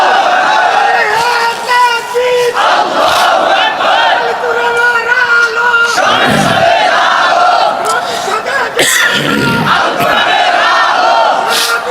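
A large rally crowd roars a loud, sustained chant answering a takbir call, many voices rising and falling together in repeated waves.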